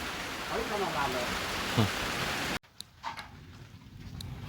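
Steady rain from a summer storm hisses for a couple of seconds, then gives way to quieter patter and scattered drips after an abrupt cut.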